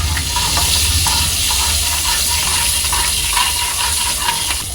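Onion frying in hot oil in a pan with asafoetida already added: a loud, continuous dense sizzle with faint stirring clicks running through, and no talking.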